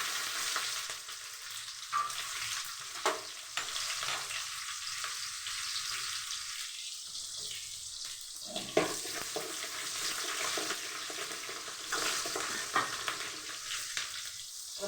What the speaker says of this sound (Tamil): வெங்காயம் போட்டலாம்.